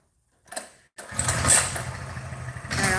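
A motorbike engine starts up close by: a brief mechanical sound, a short pause, then the engine catches and settles into a steady, rumbling run that continues to the end.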